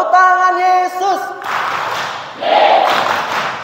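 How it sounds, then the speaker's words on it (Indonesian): Church congregation at an Easter youth service clapping together, a broad burst of hands after a sung chant, fairly loud and close, with a second swell of clapping following. "2, 3, tepuk tangan Yesus."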